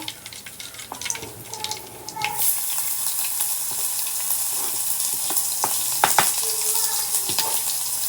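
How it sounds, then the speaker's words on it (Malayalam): Ginger, garlic and green chilli paste frying in coconut oil, a steady loud sizzle that jumps up as ingredients hit the pan, with occasional stirring clinks and scrapes, close up. "ഇഞ്ചി വെളുത്തുള്ളി പച്ചമുളക് എല്ലാം വയറ്റിയെടുക്കുകയാണ്"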